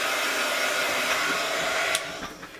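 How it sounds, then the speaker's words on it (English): A hair dryer blasts heat over a freshly inked craft card, a close, loud, steady whoosh that cuts off near the end, with no voices. "I'm just going to use my dryer and quickly give this a little splash of heat."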